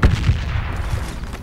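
Gunfire in the tactical shooter Project Reality on the Musa Qala insurgency map: a few sharp, low shots crack near the start, then a rumbling, echoing tail of distant fire trails off, with no voices.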